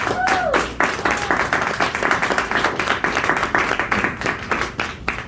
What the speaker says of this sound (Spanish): Den un aplauso a Cristo vivo si usted lo cree.